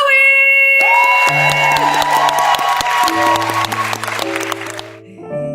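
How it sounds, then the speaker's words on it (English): A talent show audience at the Talent Search Cymru final applauds and cheers for the singer Zoe, with brisk clapping and whoops layered over sustained musical tones from the stage. "I want you all to give a round of applause for Zoe!"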